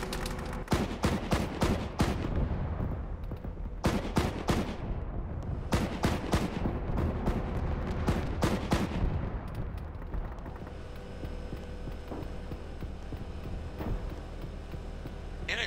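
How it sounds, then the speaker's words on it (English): A teammate's gunfire cracks overhead in a video game battle, loud rapid bursts and volleys repeating for about ten seconds before easing into a rumbling background. "I think that's nine ball firing over our head."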